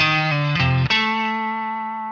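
Distorted electric guitar plays a short rock lick, a few picked notes bending between pitches before landing on a high octave note that rings out and sustains, loud and close with effects coloring the tone.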